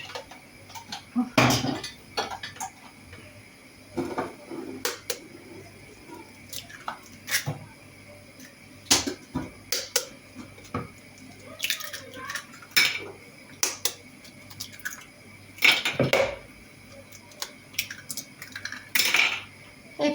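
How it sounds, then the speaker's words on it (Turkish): Four washed eggs are cracked one after another into a bowl for an orange revani dessert, each giving a sharp tap and clink on the rim followed by soft drips and squishes, close and quiet between strikes. "hepsini 4 tane yumurtayı kırdım arkadaşlar bu şekilde"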